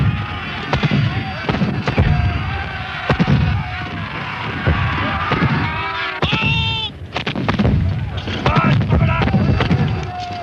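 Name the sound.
artillery fire, Battle of Culloden 1746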